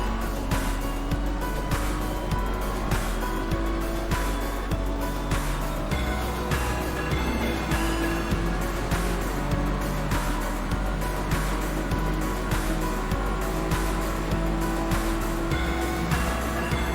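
A LightSpeed BMW race car circulates at Monza during a 9-hour endurance race, its engine a loud, continuous drone that rises and falls steadily as it runs through the gears, with no clear voice over it.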